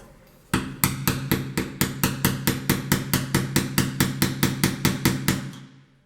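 Rapid, evenly spaced metallic hammer blows, about twenty in a row, loud and close, driving a pin in while installing a stained glass window, before stopping.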